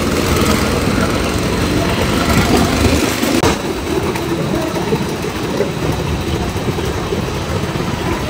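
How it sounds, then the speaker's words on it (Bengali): An amusement park ride train at Fantasy Kingdom moves slowly, a continuous rumbling and engine-like drone that drops a little partway through, with no clear talk. "স্লোলি স্লোলি ট্রেন যাচ্ছে।"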